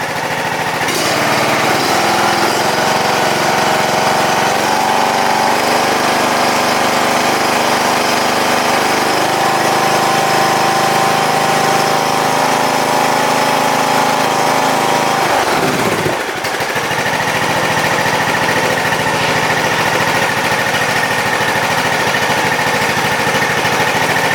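A small riding lawn mower engine, a John Deere LA115, idles steadily and loudly up close for the whole stretch, with a brief dip in pitch partway before settling back into an even drone.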